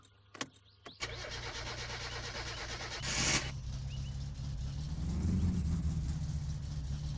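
A car engine in the video game My Summer Car, with the choke applied, cranks briefly, catches and settles into a steady idle that swells slightly as it revs.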